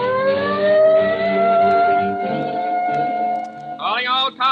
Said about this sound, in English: There's the police car.